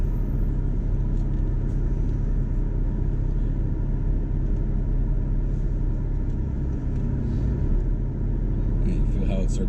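A car engine idles and rumbles steadily at low speed while a 12-year-old drives, making U-turns. The rumble runs continuously and fairly loud throughout, with people talking over it.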